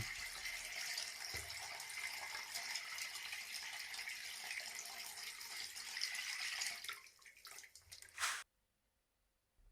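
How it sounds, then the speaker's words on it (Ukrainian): Catfish balyk is rinsed under a running tap, with a steady hiss of water lasting about eight seconds before it is abruptly shut off, leaving near silence. "ще раз добре промиваю балик під проточною водою"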